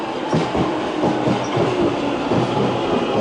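An Overground train rolls through West Hampstead station, a loud, close, continuous rumble with rhythmic clicking of wheels over rail joints and faint wheel squeal.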